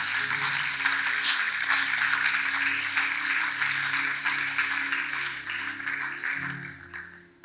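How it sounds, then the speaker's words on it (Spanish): Applause from a church congregation during a service, moderate clapping spread across the room, heard alongside sustained music that fades toward the end. "Puedes darle un aplauso al Señor."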